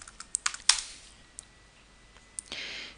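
Login password typed on a computer keyboard during a RHEL 7 installation, a short burst of sharp key clicks followed by sparse single taps and a final firmer keystroke, close and quiet with no talking.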